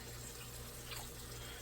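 Water runs from a tap into a sauce jar in a home kitchen, a faint, steady trickle heard alone for under two seconds.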